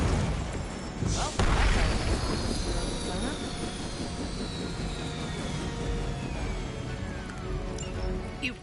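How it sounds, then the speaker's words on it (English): A helicopter in a PS4 video game roars steadily overhead with a broad, loud engine drone that swells briefly near the start and then holds, mixed with other game effects. "Stop that chopper, please."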